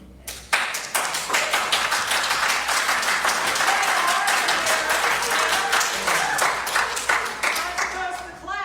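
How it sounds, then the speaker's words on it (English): A crowd at a city council budget public hearing applauds steadily throughout, dense overlapping claps with a few voices mixed in. "Not supposed to clap."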